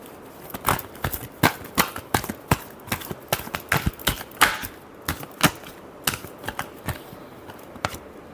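Tarot cards shuffled by hand, heard as a steady run of crisp, close snapping and tapping clicks with short pauses, without any talk.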